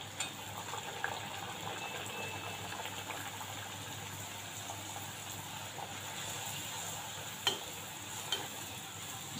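Puri frying in hot oil in a home kitchen, a steady soft sizzle and bubbling at close range, with faint stirring clicks and a couple of brief taps from a utensil, no talking.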